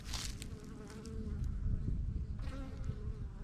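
Bees buzz in a steady, close swarm around a hive as a new batch arrives, several overlapping drones rising and fading as individual insects pass near.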